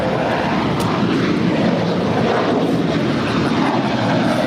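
An airliner takes off from runway 25 right at LAX, its engines a loud, steady broadband roar that holds through the whole stretch without any talk.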